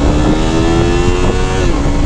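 A 2020 Yamaha MT-03 motorcycle engine revs high and loud close by, a steady buzzing drone with a slight wavering in pitch over about two seconds.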